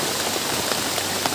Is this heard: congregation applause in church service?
no